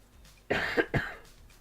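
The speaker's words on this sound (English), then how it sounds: "I hate how often I cough." A single person's cough, two quick harsh bursts close to the microphone, in an otherwise quiet room with no speech.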